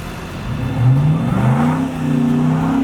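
Outdoors in a snowstorm, a car engine revs and climbs in pitch as the vehicle accelerates nearby, a steady mid-range whir with no talking.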